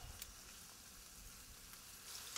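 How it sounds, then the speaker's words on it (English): Steady, dense sizzle of panfish frying in a pan, a continuous crackling hiss with faint occasional pops, fairly quiet and close. "This is pan frying."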